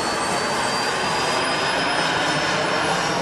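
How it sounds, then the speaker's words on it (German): A large super-scale RC F-16 model with a turbine jet engine flies slowly past at an outdoor jet show, giving a loud, steady turbine roar and whine that holds constant throughout with no talking. "er kommt jetzt nochmal von rechts nach links mit seiner F16 im Langsamflug"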